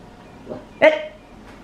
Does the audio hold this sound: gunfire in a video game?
no